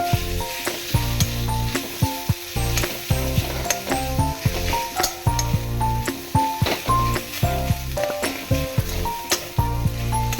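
Mashed potatoes with onion and ginger sauté in a pan, giving a steady sizzle with occasional stirring scrapes, heard under rhythmic background music that dominates the mix.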